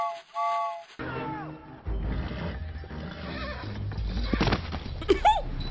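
Horses in the animated film Spirit: Stallion of the Cimarron whinny loudly several times, with hoof clops and rustling in between; one shrill neigh stands out near the end.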